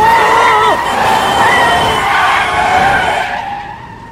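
Loud tire skid and squealing from a car on a road, a long screeching sweep that drifts in pitch and fades toward the end, with a beginner driver at the wheel struggling to slow down.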